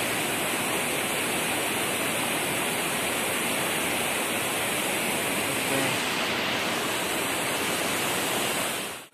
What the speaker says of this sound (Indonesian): Di depan kita ada air terjun kecil.